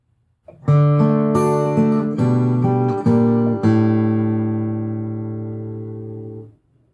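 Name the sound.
fingerstyle guitar playing measure 30 of When I'm Gone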